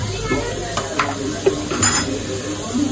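Butter and a little oil heat in a pan over medium flame while a spoon stirs, producing a soft sizzle with light scraping and occasional metallic clinks, close up.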